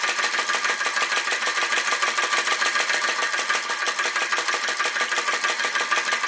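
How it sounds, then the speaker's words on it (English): A small Flame Licker vacuum engine runs fast and steady, a rapid even clatter of repeating beats, close and constant throughout with no talking. "This is the first vacuum engine I've had that's got this fine adjuster."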